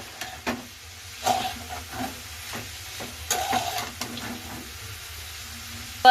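Carrots and mixed vegetables for chira pulao frying in a pan under a low sizzle, with repeated scraping stir strokes of a spoon in an irregular rhythm, close by, and no talking.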